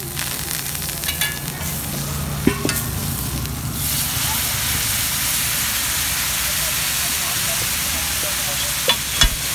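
Chole masala with onions frying on a hot pan at a Delhi street stall serving chole kulche, a steady close sizzle and stirring hiss with brief utensil clinks.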